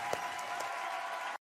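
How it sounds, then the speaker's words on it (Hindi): A burst of applause from an audience at a televised singing performance, a short dense clatter of clapping that cuts off abruptly. "जोरदार ताली"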